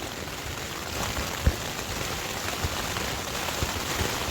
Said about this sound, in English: All you can hear is that rain.